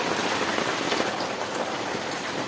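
Steady rain pours down in a continuous broadband hiss of drops hitting surfaces, even and unbroken throughout, with no voices.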